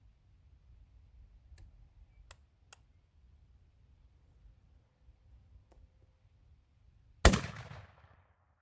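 A single loud rifle shot from a 1901 rifle fired over a chronograph cracks out near the end, with a short decaying echo after a quiet stretch of faint ticks and clicks.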